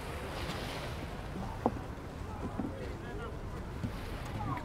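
Soft wind buffets the microphone over a gentle wash of calm sea at Son Matias Beach, Palmanova, Mallorca, with faint scattered knocks and a voice in the background.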